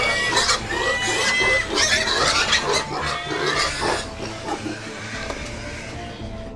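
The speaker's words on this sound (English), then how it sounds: "Na hata ikiwa umesahau utasikia zikipiga kelele." Pigs on a breeding farm squeal and grunt continuously, loud and close, a dense overlapping chorus of hungry animals with no talk.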